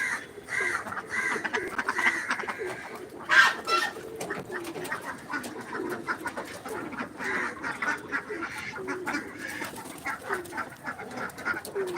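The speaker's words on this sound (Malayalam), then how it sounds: "താറാവ് കുട്ടങ്ങൾ കൂട്ടിൽ കൂടാൻ വേണ്ടിയിട്ട് വരുന്നത്" A busy flock of ducklings returning to their coop on a farm quacks and peeps continuously nearby, with overlapping calls and a slightly louder burst of cries partway through.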